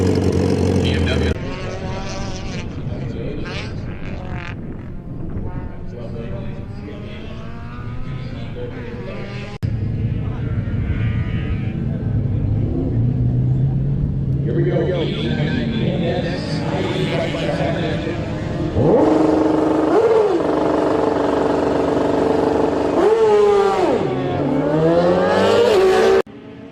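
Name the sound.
pair of drag racing motorcycles launching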